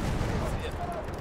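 Shotgun fire in the first-person shooter Battlefield 1, a short, dense burst of loud blasts and battle noise with a faint voice under it.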